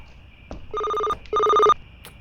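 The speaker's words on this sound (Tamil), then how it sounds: "ஃபோன் கால் வருது" A telephone rings in a video game set on a night shift at a 24/7 pizza shop, giving two clear electronic ring bursts with a short pause between, loud and alone.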